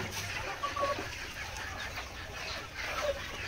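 Country hens on a village poultry farm clucking softly in short, scattered calls over a low background hum, fairly faint and with no talk.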